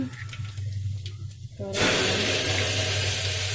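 Mustard seeds and cumin tipped into hot oil for a kuzhambu burst into a loud, close hiss that continues steadily, following a few quieter kitchen clinks.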